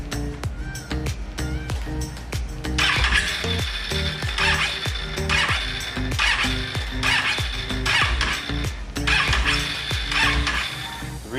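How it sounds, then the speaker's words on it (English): The engine of a Can-Am Outlander ATV is cranked over by the starter without firing, a loud rhythmic whirring churn with a high squealing whine that rises and falls in repeated pulses for several seconds. "let's go ahead and crank it up and get the oil flowing. And we're going to bump it a couple times"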